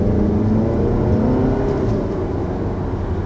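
Engine of a 2019 Audi Q3 in dynamic mode, heard from inside the cabin: a steady low droning hum with a faint shift in tone midway, where a subtle burble on the gearshift might sit.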